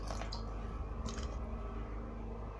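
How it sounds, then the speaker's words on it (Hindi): Burger bun dough is mixed and kneaded by hand with water, giving continuous wet squishing and sticky slapping sounds close up, with a few sharper squelches. "सबसे पहले हम इसकी मिक्सिंग स्टार्ट करेंगे और इसी पानी में इसको नीड भी करेंगे।"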